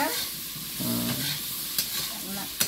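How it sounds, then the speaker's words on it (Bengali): Taro frying in a pan, a soft steady sizzle with faint stirring scrapes and two sharp utensil clicks near the end, fairly quiet and close. "কচুটা ফাইন করে ভাজতে হবে, লাল লাল করে।"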